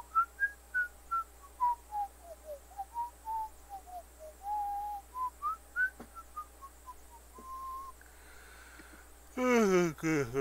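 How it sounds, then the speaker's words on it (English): A person whistles a slow wandering melody close by, with many separate rising and falling notes, then a brief burst of faster whistling near the end. A faint background hum runs throughout. "No whistling."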